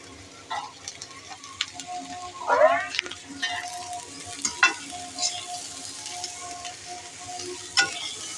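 Water poured into a hot frying pan while cooking a chickpea and potato curry bursts into a brief hiss and sizzle, with stirring and frying noise continuing around it.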